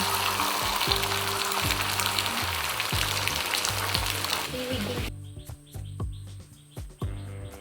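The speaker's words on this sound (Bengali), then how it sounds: "এবার প্যানে দিয়ে দিলাম তেলটাও আমার গরম হয়ে গিয়েছিল" Loud hot-oil sizzling and crackling as beaten egg hits a pan fills the first part, then drops to a quieter spatter, with scraping clicks of a utensil and faint chirps nearby.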